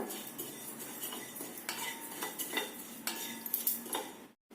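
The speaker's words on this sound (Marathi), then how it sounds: "जिरे बडीशेप आणि मेथी दाणे वरती हे भाजून घ्यायचंय" Cumin, fennel and fenugreek seeds are dry-roasted in a pan, heard as repeated metallic scrapes and clinks of a spoon stirring against the pan, close and fairly quiet, with no talking.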